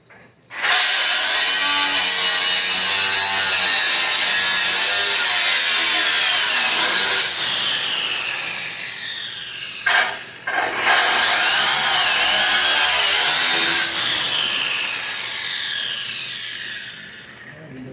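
A loud power tool cuts through metal during fabrication work on a 1949 Studebaker Champion gasser, giving a harsh, sustained grinding whine that drops out briefly, then resumes and winds down.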